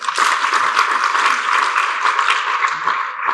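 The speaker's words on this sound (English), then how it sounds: "Please give them a very loud hand clap." Loud, sustained applause from an education forum audience, dense hand clapping filling the room steadily for a few seconds with no voices over it.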